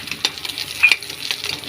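Pork frying in a pan, stirred and turned over with a utensil: soft scraping and light clinks over a steady gentle sizzle, close up and with no talking.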